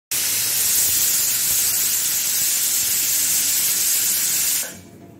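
A pressure cooker whistle releases steam while methi pulao cooks, a loud continuous hiss lasting about four and a half seconds that then cuts off abruptly.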